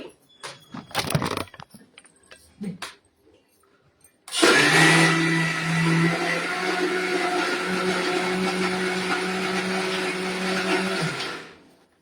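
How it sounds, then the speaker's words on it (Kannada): A few clatters and brief noises, then an electric mixer grinder grinding batter roars to life and whirs steadily at high speed before cutting off near the end. "ನಾನು ಮಿಕ್ಸಿಯಲ್ಲಿ ರುಬ್ತೀನಿ."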